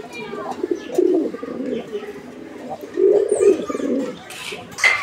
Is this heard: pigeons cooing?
yes